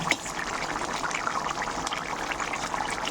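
Soaked bhola fish pieces go into a simmering curry gravy with potato and cauliflower, giving a steady wet sizzling and bubbling wash at moderate loudness, close and without talk.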